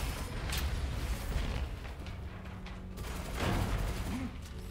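Grenades explode with thuds and booms during a Gunfire Reborn shooter game, set in a dense, continuous mix of game effects with a couple of stronger bursts.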